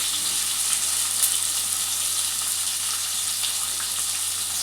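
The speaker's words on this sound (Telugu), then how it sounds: "ఇవి మంచిగా ఫ్రై కావాలి" Onion, green chillies, mustard seeds and cumin frying in hot oil, a loud, dense, continuous sizzle with bright hiss that holds steady throughout, no voices.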